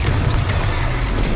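Confringo fire spell explosions in the Hogwarts Legacy video game, a dense, loud run of booming blasts and crackling bursts rolling continuously with heavy low rumble throughout.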